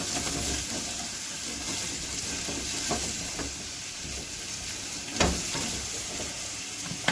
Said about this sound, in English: We've got our onions are sauteing right there. We've got our bacon. It's just starting to brown a little bit.